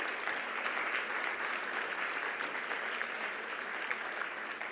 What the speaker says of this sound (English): let's give a big round of applause to our platinum sponsor, the Lipedema Surgery Center.